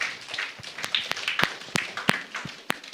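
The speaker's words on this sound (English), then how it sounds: "Please, a round of applause for all of us." A small church audience gives brief, sparse applause: a dozen or so separate hand claps, close and crisp, with no cheering.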